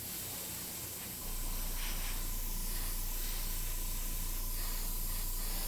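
An airbrush lays a light mist coat of paint on a scale model, a steady close hiss that rises when the trigger opens and then holds even and unbroken, with no talking.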